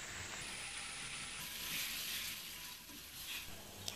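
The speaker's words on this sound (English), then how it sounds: "will fry the potatoes with the meat for another 2 more minutes" Potatoes and meat with spices fry in a pan, making a quiet continuous sizzle with light scraping and clattering texture and a small knock near the end; no one speaks.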